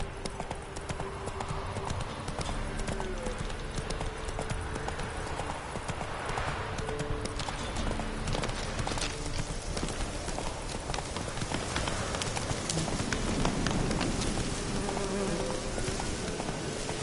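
Roach, a horse in The Witcher III: Wild Hunt, trots with a steady, continuous clip-clop of hooves over a dense bed of buzzing ambience, close and persistent throughout.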